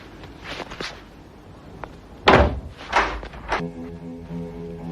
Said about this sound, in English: May I close the door?